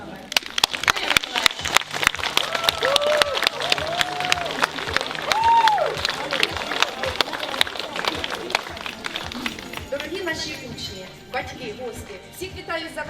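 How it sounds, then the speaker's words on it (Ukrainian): Warm applause at a school's last-bell ceremony welcoming the children's first teacher, sustained crowd clapping with cheering and murmuring, while a voice talks over it and music enters near the end. "Зустрічаймо її теплими оплесками."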